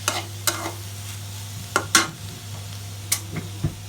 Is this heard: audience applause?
no